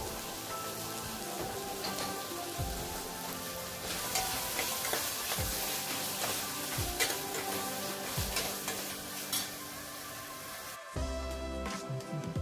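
Cauliflower with red chilli, garam masala and salt sautéing in a pan, a steady sizzle with repeated stirring scrapes of a spoon against the pan, close and alone.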